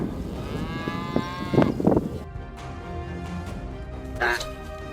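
Cow giving a loud, drawn-out moo close by, followed by a few sharp dog barks and a second, shorter low call.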